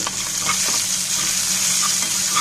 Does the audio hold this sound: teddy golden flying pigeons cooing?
no